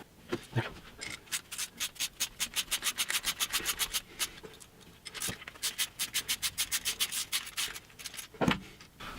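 Ratcheting die cutting threads onto a screw during prep work on a BMW E46 M3 race car: rapid, evenly spaced clicking bursts of the 16 mm ratchet in two long runs with a brief pause, close and moderately loud, with no talking.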